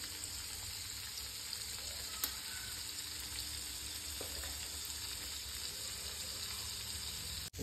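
Cubes of paneer seasoned with salt and red chilli sizzle steadily in a hot pan while being sautéed for a paneer butter masala, a continuous close frying hiss with occasional spatula scrapes and no talking.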